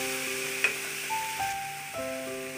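Garlic and green chili paste sizzles in a hot pan for Maharashtrian patwadi, a steady close frying hiss with a few light stirring scrapes.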